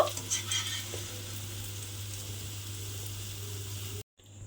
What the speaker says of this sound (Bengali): আবারও কিন্তু গরম তেলের মধ্যে এইভাবে ব্যাটারটা দিয়ে বোঁদেগুলো আবারও ভেজে নেব